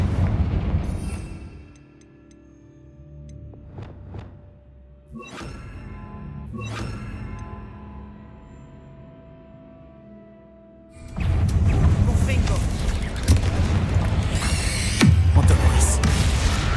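A Confringo fire spell goes off in Hogwarts Legacy: two sharp blasts ring out midway through a quiet stretch, then a loud, dense, roaring explosion fills the last several seconds.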